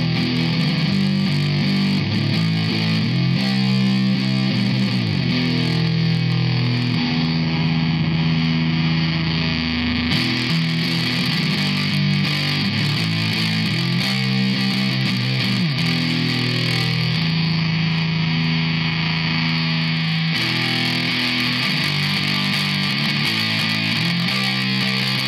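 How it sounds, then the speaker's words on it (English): An electric guitar plays through an Electro-Harmonix Op-Amp Big Muff Pi fuzz pedal, giving a dense, loud, continuous fuzzy distorted tone with sustained chords that run the whole stretch without a break. "I think you hear the fizz coming in there, and that's kind of what the pumpkin sound is"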